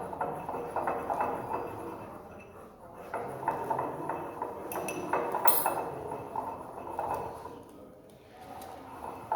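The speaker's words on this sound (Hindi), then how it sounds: "अब एस्प्रिन डालेंगे आप थोड़ी थोड़ी करके इसके अंदर और मिक्स करते जाएंगे" A pestle grinds and clinks in a mortar as aspirin powder is worked into a drug mixture, giving a steady scraping rhythm with light knocks.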